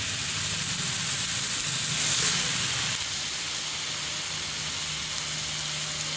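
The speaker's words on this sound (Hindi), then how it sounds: "इसको 1 से 2 मिनट पकाएंगे जब तक कि कलेजी का कलर चेंज ना हो जाए।" Mutton liver frying on a hot tawa gives off a steady, loud sizzling hiss that swells briefly and then settles into an even, continuous sizzle.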